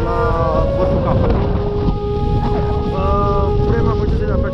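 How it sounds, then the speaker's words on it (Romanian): Strong mountain wind buffets the microphone on the way to Moldoveanu Peak near Capra Lake, a loud, constant low roar with gusty rumble. A voice talks over it. "vântul bate destul de tare"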